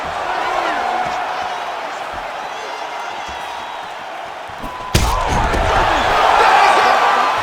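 A virtual arena crowd in EA Sports UFC 5 roars steadily beneath fight commentary, surging louder with a sharp burst as a fight-ending shot lands.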